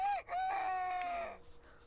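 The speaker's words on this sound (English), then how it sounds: "this rooster need to shut the fuck up" A rooster crows in The Sims 4's Cottage Living farm setting, one long loud drawn-out call with a sharp start, ending in quieter farmyard sounds and no talk.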